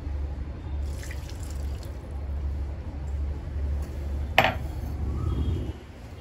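Soft splashing and trickling of water poured into a bowl of mutton kheema vadai mixture, with faint kitchen clatter and a brief sharp clink partway through.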